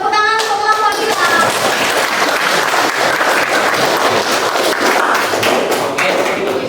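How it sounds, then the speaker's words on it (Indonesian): Classmates in a school classroom clap for a student group after a presentation, loud and close with sharp individual hand slaps and a voice briefly over the start. "Tepuk tangan untuk kelompok kita."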